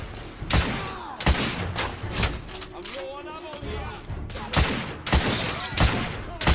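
Bursts of gunfire from The Order 1886, a third-person shooter, with repeated sharp shots and a rattling volley, loud and close, while a person talks over the action.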